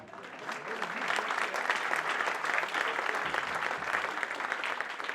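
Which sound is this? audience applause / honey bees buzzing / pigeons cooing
audience applause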